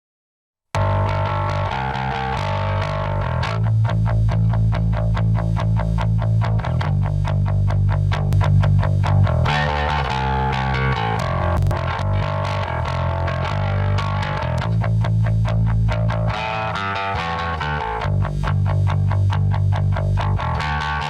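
A bass line runs through a Black Lion Audio Bluey 1176-style FET limiting compressor, playing as a continuous, punchy distorted groove with repeated rhythmic notes and steady loudness throughout.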